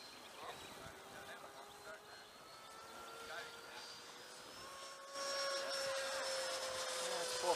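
Hobby King Sky Sword RC jet flying at full throttle on its maiden flight, a steady high-pitched whine that rises and drifts in pitch as it passes, growing louder near the end, with people talking over it.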